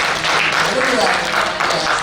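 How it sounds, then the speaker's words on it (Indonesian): Applause from a seminar audience in 2017: a crowd claps continuously at a fairly loud, even level for the whole stretch, with some voice mixed in. "Mari kita beri tepuk tangan untuk diri kita semua."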